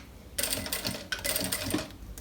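A sewing machine stitches a seam on a fabric pencil case in two fast mechanical bursts with a brief pause between them, close and clear.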